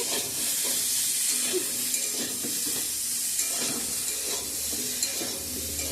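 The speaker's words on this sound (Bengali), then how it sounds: "ফুলকপি আলুগুলো ভালো করে ভেজে নিচ্ছি" Cauliflower and potatoes sizzle and crackle in a hot pan with occasional stirring scrapes, a steady hiss running throughout at moderate loudness.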